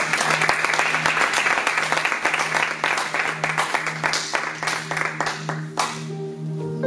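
A church congregation applauds with dense, steady clapping that fades out near the end, while a faint voice sits beneath it.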